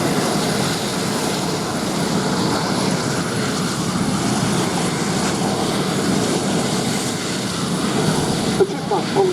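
A de Havilland Chipmunk pulling away from a formation at the Shuttleworth Fly Navy air display, a steady piston-engine drone that holds loud and even throughout, mixed with outdoor crowd noise and speech.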